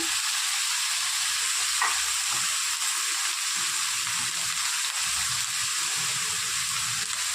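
Brinjal pieces with turmeric and spices fry in hot oil in a pan for a curry, giving a constant hissing sizzle with faint stirring scrapes underneath.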